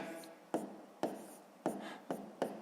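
Handwriting numbers on paper: six short scratchy pen strokes in an uneven rhythm, close and quiet, with no talking.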